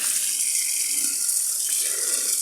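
Running water rinsing laundry and shampooed hair, a steady close hiss and splash with no breaks, fairly loud throughout.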